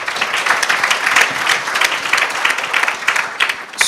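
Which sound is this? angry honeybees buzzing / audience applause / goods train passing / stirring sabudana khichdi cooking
audience applause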